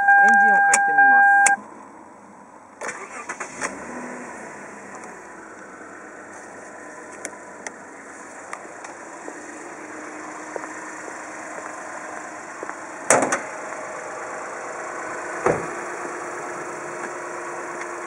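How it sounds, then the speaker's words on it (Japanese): A 2008 Toyota Mark X 250G LTD with a 4GR-FSE V6 engine starts up and settles into a quiet, steady idle inside the car, with a few clicks and small interior noises along the way. "エンジンをかけてみます。"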